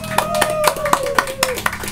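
Audience clapping in rhythmic, evenly spaced claps, roughly four per second, close and fairly loud over a sustained tonal hum, with some voices mixed in beneath.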